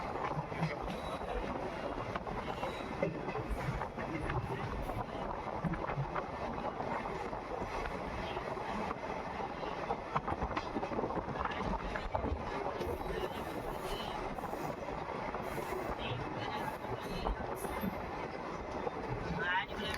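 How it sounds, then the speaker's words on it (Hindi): The 14087 Runicha Express passenger train running between Phulera Junction and Kuchaman City, a steady rumbling and rattling of carriages heard from onboard, with wind noise and a voice talking over it. "ट्रेन की स्पीड स्लो हो रही है क्योंकि ट्रेन बढ़ रही है इसका नेक्स्ट स्टॉपेज कुचामन सिटी की तरफ"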